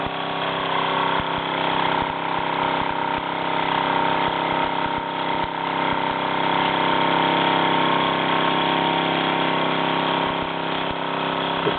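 A Luton Bowman PW203 toy steam engine runs in steam with a steady, continuous mechanical whirring hum and faint rapid ticking, close and unchanging throughout with no voices.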